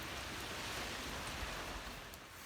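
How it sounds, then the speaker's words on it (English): A steady, dense hiss of heavy rain pouring down outdoors in the UK, continuous and fairly loud, with no voices. "it's absolutely bucketing down now"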